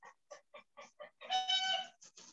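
A hen clucks in a quick run of short evenly spaced notes, then lets out a longer raspy, drawn-out cackle before a few more clucks, close and clear.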